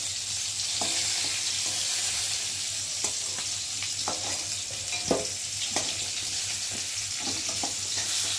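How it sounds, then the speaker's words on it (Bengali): Pointed gourd (potol) frying in hot oil in a kadai makes a loud, constant close-up sizzle, punctuated by irregular clicks and scrapes of a spatula turning the pieces, with no one talking. "পটলটা বেশ ভালো ভাজা ভাজা হয়ে গেছে"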